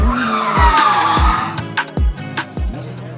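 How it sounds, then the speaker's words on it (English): Car tires squeal loudly in a sustained, wavering screech as a car drifts during a Hollywood camera-car film shoot, with deep thumps pulsing underneath at a steady beat and sharp clicks and bangs near the end. "I think they got what they needed from that like back shot of the tire drifting."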